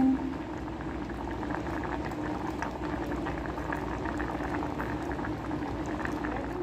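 Squash simmering in coconut milk in a pot on a stove bubbles steadily and closely, a dense continuous boil with no talk over it.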